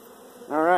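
Honey bees buzzing at an opened brood-nest hive during a spring inspection, beside an empty frame, a faint hum that swells suddenly into a close, loud droning buzz of a bee passing near.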